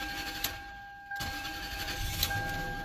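A 2001 Lexus LS430 engine cranks and catches after a brief hush, then runs on steadily, with a constant thin electrical whine sitting over the motor throughout.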